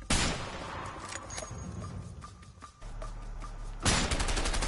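Sniper rifle fire in the video game A Way Out: a string of sharp, loud cracks over a busy battle din, with a brief lull before another loud burst.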